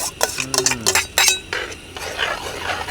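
A metal spoon clinks and scrapes as giant mud crab curry with garam masala and fresh cream is stirred in a pan, several sharp clatters in quick succession, close and alone.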